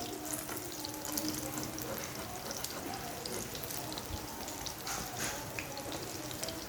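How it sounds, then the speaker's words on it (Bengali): Quiet, steady crackling and bubbling of oats pakoras deep-frying in oil, a soft continuous hiss with scattered pops throughout. "পকোড়াগুলো ভাজা হচ্ছে, এক পিঠ হয়ে এসছে।"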